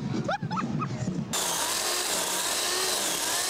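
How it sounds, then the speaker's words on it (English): A power saw whines steadily and loudly, continuously cutting tree limbs after a brief dog bark and scattered noise at the start. "Residents sawing tree limbs and moving the pieces one by one off their lawns"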